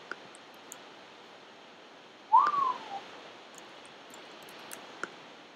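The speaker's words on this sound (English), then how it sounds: "Probably shouldn't have whistled, I probably messed up my sound." A single short whistle from a person, rising then gliding down, sounding alone over a quiet hiss with a few faint clicks from a Minecraft game.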